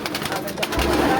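Pigeons in a loft give soft, close cooing calls over a brief moment, with a voice audible alongside.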